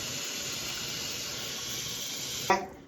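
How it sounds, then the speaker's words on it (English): Water poured into a cooking pot while making broth: a steady, close rushing stream that holds even for a few seconds, then a brief clatter as it stops and fades. "I'm going to go back and put some more water in here"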